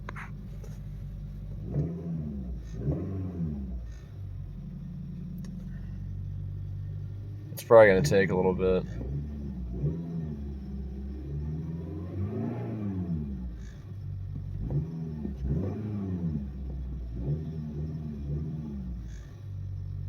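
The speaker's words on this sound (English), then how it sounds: "that sound you guys probably heard that's the starter when it's cold" Cold Honda Fit engine cranks and then runs, a steady low rumble with a brief sharp burst around the start, continuing close by while someone talks over it.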